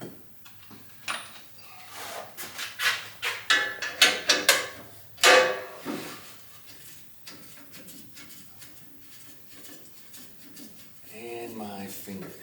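Metallic ratcheting clicks and scrapes from a wrench loosening a nut on a vintage 1950s–60s Craftsman table saw, in uneven close bursts with quiet pauses and a faint voice in places.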